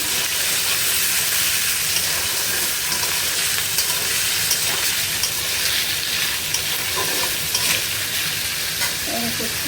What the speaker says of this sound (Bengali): কিন্তু আমি তো ভেজে নিচ্ছি